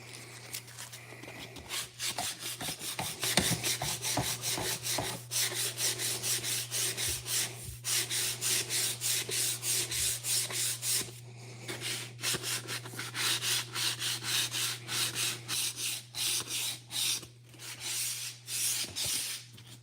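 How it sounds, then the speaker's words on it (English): Wood trim being hand-sanded to remove saw marks: steady rhythmic back-and-forth scratching strokes run for about twenty seconds with a few brief pauses, close up over a constant low electrical hum. "I have to sand it, because the saw marks will just shine right through everything if I don't."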